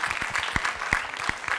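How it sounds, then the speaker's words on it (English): Sparse, scattered clapping from a small audience after a film screening Q&A at an art museum, distinct individual claps at moderate volume with faint voices underneath. "I'll clap to that."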